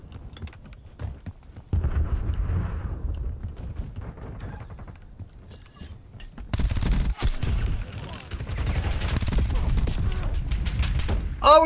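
Gunfire from the video game Call of Duty United Offensive comes in clustered bursts and rapid volleys amid heavy battle noise, with a voice talking over parts of it.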